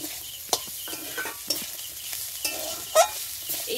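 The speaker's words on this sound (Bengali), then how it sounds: "এর মধ্যে আমার চিকেনটা আমি মিশিয়ে নেব।" Chicken being stirred into frying vegetables in a pan: soft continuous sizzle with repeated scraping strokes of a spatula against the pan, close and clear, no voices.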